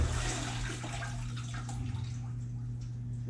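Water poured out of a turkey deep-fryer pot, a steady rushing splash that starts strong and tapers into trickles and drips, close by.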